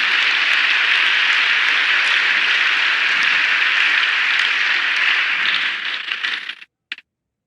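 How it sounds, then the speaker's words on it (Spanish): A church congregation claps together in steady, dense applause that fills the room for several seconds, then thins out and stops abruptly with a few last claps. "¿Quiere darle un aplauso al Señor en esta hora?"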